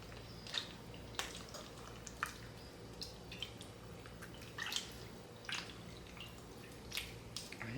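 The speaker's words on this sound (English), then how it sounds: "Let's give it a good squeeze, trying to get as much of that water or buttermilk out of here." Homemade butter squeezed by hand to press out buttermilk and water, giving faint, close drips and soft wet squishes that recur irregularly every second or so, with no talking.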